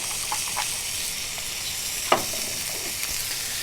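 A porterhouse burger patty seasoned with kosher salt and pepper sears in a hot pan, giving a steady close sizzle and hiss with a few faint pops and clinks, no voices.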